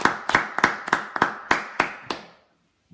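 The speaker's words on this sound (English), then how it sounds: "So let's give a round of applause to Kate." A small audience gives a round of applause for Kate: eight sharp, evenly spaced claps ring out close by in a steady rhythm, then stop, leaving near silence.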